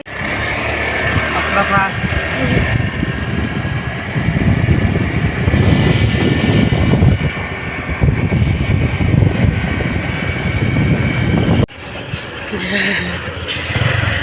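A vehicle engine runs with a steady, loud rumble nearby while people talk over it, with a brief drop in level near the end.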